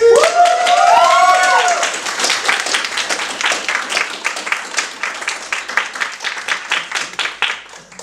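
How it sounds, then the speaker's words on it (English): Loud audience applause and cheering for a stand-up comedian swell at first, then settle into steady clapping that gradually thins out, with a brief whistle early on. "give him a massive round of applause and welcome him to the stage"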